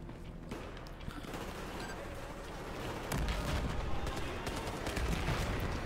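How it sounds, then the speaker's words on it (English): Dense gunfire crackles through a Battlefield 4 battle on the South China Sea mission, a steady loud volley of shots that swells and grows heavier partway through, with no voices over it. "I could shoot through the window"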